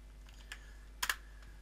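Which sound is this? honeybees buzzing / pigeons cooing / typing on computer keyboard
typing on computer keyboard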